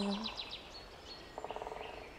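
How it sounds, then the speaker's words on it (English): Birds chirp and trill in a forest by a lake, with a quick run of high tweets followed by a rapid, repeated warbling call, moderately close over a soft natural background. "Maybe it's the birds from this video."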